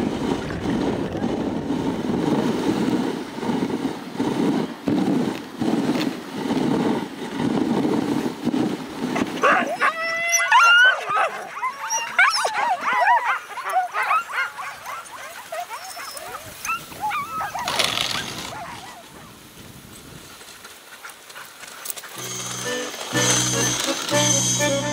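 Sled dogs in Lapland yelp, whimper and bark in excited bursts over a running engine, then high-pitched howling and yipping take over, near and loud, with some voices nearby.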